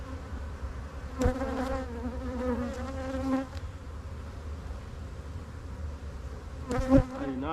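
Honeybees buzzing from an opened hive during a colony inspection, a steady close drone with louder individual bees passing near at intervals.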